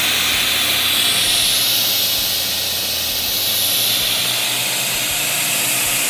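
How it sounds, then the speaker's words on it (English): An Instant Pot pressure cooker doing a quick pressure release: a loud, steady rush of hissing steam that holds constant from start to finish, close by, with no talking. "we're going to do a quick pressure release when it's done"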